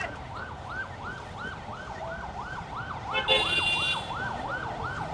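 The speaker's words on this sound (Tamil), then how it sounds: "அடுத்தடுத்து ஆம்புலன்ஸ்கள் ஓடிக்கொண்டே இருக்கு" An ambulance siren wails in a steady, repeating rise-and-fall pattern on a busy street in Thiruvananthapuram, Kerala, sounding fairly close over constant traffic rumble, with a brief burst of extra high-pitched noise partway through.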